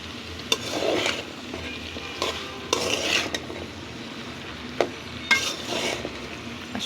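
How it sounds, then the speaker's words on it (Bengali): Spoon stirring vegetable khichuri in a pot, with scraping strokes repeated every second or so and a low sizzle beneath them, heard close up with nobody talking. "এখন একটু নেড়ে দিই।"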